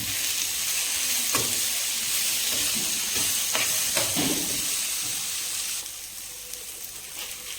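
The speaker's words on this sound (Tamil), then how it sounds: "தக்காளி வணங்கட்டும்." Tomato frying in a pan with chillies and curry leaves for a sundakkai chutney, a steady loud sizzle with hiss and steam, broken by a few stirring clicks of the spoon.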